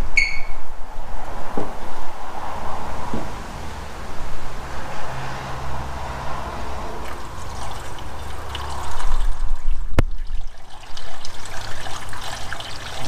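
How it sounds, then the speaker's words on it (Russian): Water is poured steadily into a hydrogen carbon-cleaning machine, a continuous trickling and splashing stream that runs for several seconds with a brief louder gush near the end, close and without talk. "Заливать можно при температуре 60 градусов. Так что будем заливать."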